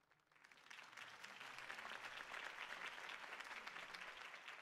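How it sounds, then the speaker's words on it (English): A crowd applauds in the Batman Telltale Series video game, sustained clapping that swells from quiet to a dense, steady roar, faint in level with no talk. "If only Mr. Wayne, my campaign's largest backer, could have heard that applause"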